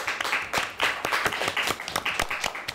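An audience claps for a high school quiz team on a televised quiz show, a dense, steady round of applause at moderate level with individual hand claps standing out, no talking over it.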